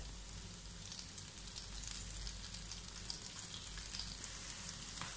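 Onion sautéing with garlic and ginger in a pan for butter chicken, a continuous hissing sizzle with a faint crackle, close and even throughout, with no talk.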